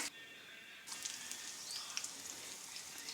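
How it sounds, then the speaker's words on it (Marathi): Curry leaves, cumin and mustard seeds sizzling in hot oil, a quiet steady crackling hiss with scattered light pops and spits that starts abruptly and continues throughout. "कढीपत्ता छान तळतळला"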